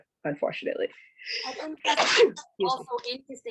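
A single sharp sneeze bursts out midway through a relaxed indoor interview with an Atlanta-based DJ, set between stretches of conversational speech from the people talking.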